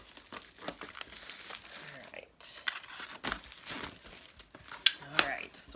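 Crinkling plastic wrap being pulled off the top layer of a Chalk Couture designer kit box, with bursts of close crackling and rustling interspersed with quieter handling noise.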